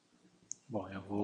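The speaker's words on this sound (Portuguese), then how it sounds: "clique duplo sobre ela." A single faint mouse click opening a spreadsheet on a computer, quick and close, followed at once by a person starting to speak.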